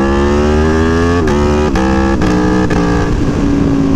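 An Aprilia Tuono V4 Factory motorcycle being ridden, its engine a loud, close, continuous drone that rises in pitch and then drops at several quick gear shifts.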